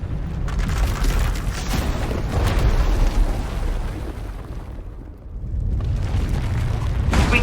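A runaway Force power erupts inside an asylum in Star Wars: The Old Republic, a continuous, loud, deep rumbling roar of explosive energy that briefly dips before surging back strongly.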